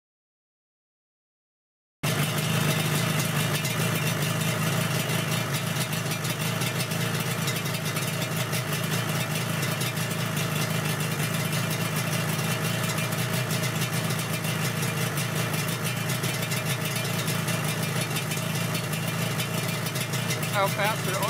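A Yamaha RZ350 two-stroke motorcycle engine idling on a resto-mod project bike just after its first start, a steady buzzing drone that runs continuously after a brief silence.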